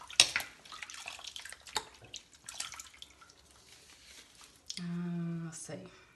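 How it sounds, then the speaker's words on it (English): A makeup brush is rinsed under running water, with soft splashing and dripping that ends in a steady stream from a faucet. A voice is heard faintly over the water. "I just rinse that out"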